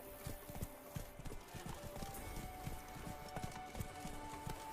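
Roach, a horse in The Witcher 3: Blood and Wine, trots with steady clip-clopping hooves throughout, close and fairly loud over a busy background din, with no talking.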